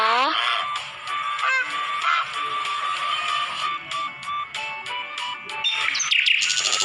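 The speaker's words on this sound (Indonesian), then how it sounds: "angsa," Geese honk repeatedly nearby, loud overlapping calls mixed with chirping bird sounds.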